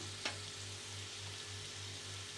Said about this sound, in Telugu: ఎర్రగడ్డలు కొద్దిగా ఫ్రై అయ్యాయి కదా.